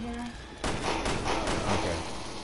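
Rapid machine gun pistol fire in Resident Evil Revelations 2 Raid Mode, a dense sustained burst starting abruptly after a quiet moment and running loud to the end.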